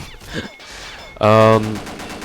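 A short, loud burst of rapid MG36 machine gun fire in the game Combat Arms, preceded by quieter clicks and mechanical handling sounds.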